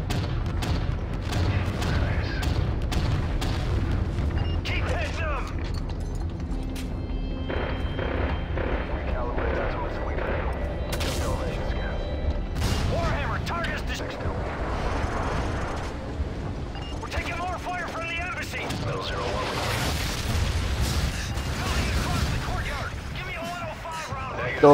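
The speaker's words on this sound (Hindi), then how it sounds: "ऊपर से एयर डिफेंस के थ्रू एयर फायरिंग हम लोग कर रहे हैं" Aerial gunfire and explosions from Call of Duty MW3 air-defense fire: dense, continuous booms and rattling bursts with a helicopter-like drone, loud and sustained throughout, with a voice talking over the battle.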